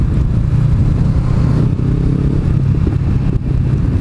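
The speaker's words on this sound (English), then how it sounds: "they're just going balls to the wall in 1000cc engine sidecars with tires spinning them" Racing sidecars with 1000cc engines thunder past in a road race, a dense, steady low engine roar holding loud and close throughout with little variation.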